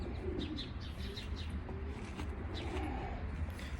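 Racing pigeons coo and chirp inside a loft, a steady murmur of several birds with soft repeated calls close by and brief higher chirps scattered throughout.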